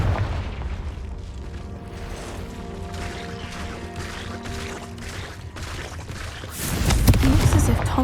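A Confringo blasting spell explodes in a Harry Potter video game, a sudden loud booming burst with heavy low rumble arriving near the end after a stretch of quieter ambient tones and talk.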